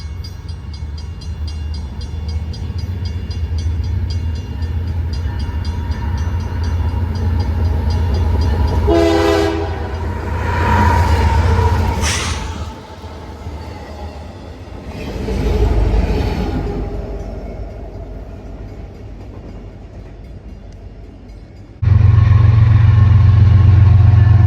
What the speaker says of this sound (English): we're in Bartlett, Illinois to catch this westbound CPKC 180